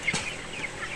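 Broiler chickens on a poultry farm, soft scattered clucks and short chirps over a constant low barn hum, fairly faint and close together.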